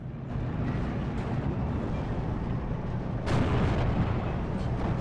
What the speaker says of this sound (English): And the T-34-76 able to take easy shots at that SIG.